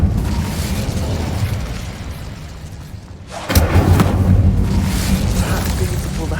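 The Incendio fire spell cast in Hogwarts Legacy: after a low rumbling ambience, a sudden whooshing burst erupts midway and roars on as a loud crackling rush.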